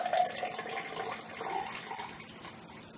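Green Ecto Cooler, a tangerine-orange drink, is poured out as a continuous soft splashing, liquid stream that tapers off gradually, at a close, modest level with nobody talking.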